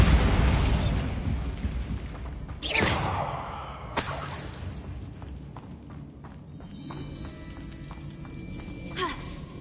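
A Bombarda spell explosion goes off in a video game. A sharp crashing burst and shattering debris are followed by a second impact, then lingering magical shimmer and rumble.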